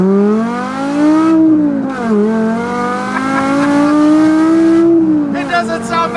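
A straight-piped BMW E60 M5 accelerates down a straightaway, its engine note climbing in pitch through long pulls with brief dips at gear changes, loud and raw from inside the car.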